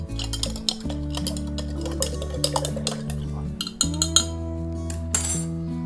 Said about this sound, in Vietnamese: Các bạn khuấy đều lên.